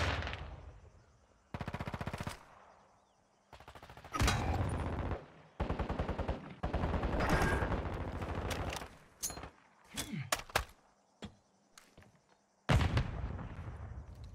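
Bursts of automatic rifle fire in Call of Duty: Modern Warfare II during a prisoner rescue mission, loud and close, with long rapid volleys separated by short gaps and a few single shots.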